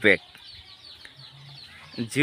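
Chickens on a Fayoumi poultry farm set in a net-covered shed over a pond, with a few short, close clucks at the start and end around quieter low murmurs.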